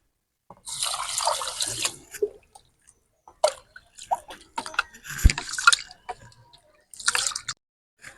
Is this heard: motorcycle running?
no